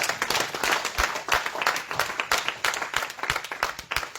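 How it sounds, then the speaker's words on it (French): Church congregation applauding loudly in a steady, dense stream of claps and cheers, close and continuous with no speech over it. "Nous acclamons très fort le Seigneur."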